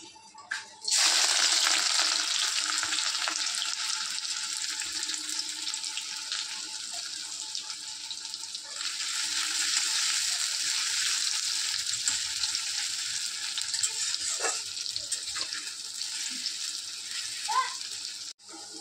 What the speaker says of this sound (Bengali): আর এখানে এই যে বাকি পেঁয়াজটা কিন্তু আমি দিয়ে দিয়েছি তেলের ওপরে।